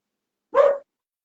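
A pet dog named Lolly gives a single short, sharp bark from close by, surrounded by silence.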